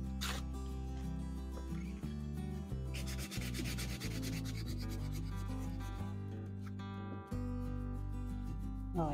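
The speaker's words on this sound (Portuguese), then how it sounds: "eu vou pegar uma lixa mais grossa," Wood is hand sanded with coarse 80-grit sandpaper, a rasping rub heard under loud music with a strong beat that dominates the mix.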